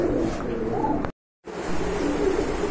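Black golden Archangel pigeons coo softly in low, throaty calls, broken by a brief moment of silence.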